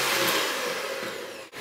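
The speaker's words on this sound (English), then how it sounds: "I'm just going to begin by giving the butter a whisk so that it's already a bit more softened" An electric whisk whipping softened butter for buttercream icing, a loud, steady motor whir that drones close up for a moment and then briefly dips.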